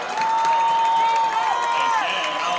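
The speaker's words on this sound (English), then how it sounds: "Crowd really rising to the occasion" Football stadium crowd cheering and rising in volume ahead of a key third down, a dense roar under a tonal whistle-like line, with a commentator talking over it.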